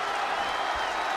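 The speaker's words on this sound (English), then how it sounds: "The roar of this crowd has been building, and they are at a fever pitch right now." A wrestling arena crowd at Money in the Bank gives a sustained, steady roar, dense and distant-sounding with no break.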